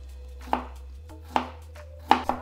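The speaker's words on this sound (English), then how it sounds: "Slice 2 cloves of garlic." A knife slices through garlic cloves on a cutting board while aromatics are prepared for Sichuan boiled fish, giving three or four sharp, separate cuts, close and fairly loud, with quiet pauses between.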